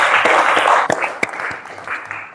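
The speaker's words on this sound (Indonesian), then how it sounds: "Tepuk tangan buat pentas" Classroom applause for a student presentation on the resurrection of Jesus: a burst of many hands clapping that thins out into a few scattered, separate claps before fading.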